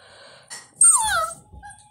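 A dog lets out short whimpering yips and a high, whiny cry, close and fairly loud, the sounds coming in a few quick bursts separated by brief pauses, with no talking over them.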